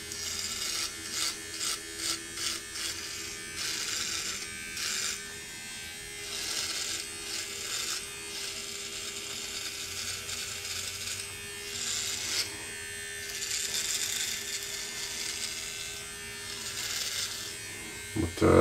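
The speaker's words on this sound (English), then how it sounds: "Looks like you can shave in both directions with it, which is pretty convenient." A Micro Touch Solo Titanium electric trimmer shaving: a steady, close motor buzz with a constant hum that runs the whole time, its pitch and loudness shifting slightly as the blade moves over stubble.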